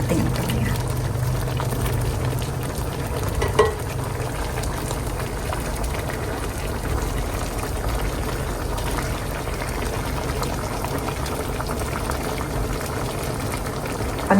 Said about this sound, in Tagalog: Pakuluan lang natin guys hanggang sa lumambot yung ating ampalaya